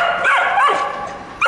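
A young cow dog pup gives a run of high, yelping barks and yips, close and fairly loud, with a fresh yelp starting right at the end.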